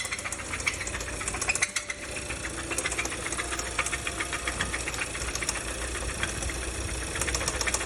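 A Kia Theta four-cylinder engine with rod bearing failure in three cylinders, knocking loudly and continuously as it idles, with a fast metallic rattle over a steady engine drone.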